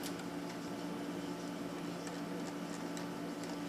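An IDE Zip drive copying files gives off a faint, steady mechanical whir with light irregular ticking and clicking, low in level and heard alone without talk.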